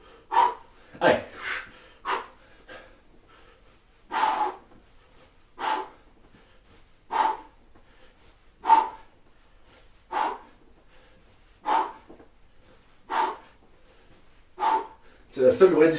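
Heavy, rhythmic breathing during HIIT V-up ab exercises, with about a dozen loud, close, forceful exhales spaced a second or so apart, each a sharp puff of air followed by quiet.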